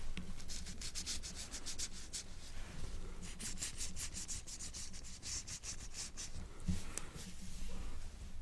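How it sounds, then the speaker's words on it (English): Gloved hands vigorously rub medication into a scalp with firm pressure, producing a close, continuous rasping friction with rhythmic strokes and brighter hissy bursts throughout. "A little bit more vigorously rub this into your scalp"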